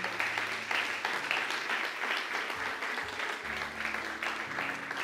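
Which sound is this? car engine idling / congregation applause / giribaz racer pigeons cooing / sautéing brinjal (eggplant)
congregation applause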